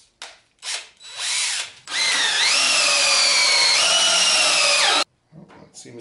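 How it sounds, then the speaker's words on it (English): A power drill drives a bolt into wood: a few short trigger bursts, then one loud, sustained whine of about three seconds that shifts in pitch under load before stopping abruptly. "Just put a bolt in the chuck of a drill."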